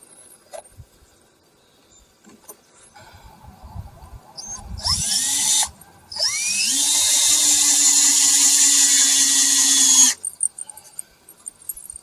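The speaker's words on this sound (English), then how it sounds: "Now I'm going to put a screw in only one corner of each so that I can adjust it for square." A power drill driving a screw into wood on a swingset build: a short whine, then a long steady high-pitched drive lasting about four seconds before stopping, close and loud, with faint handling knocks around it.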